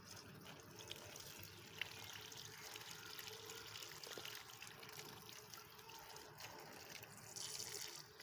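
Freshly picked spinach greens rinsed under a running tap, a steady soft hiss and trickle of water splashing over leaves, faint and continuous with small splashes.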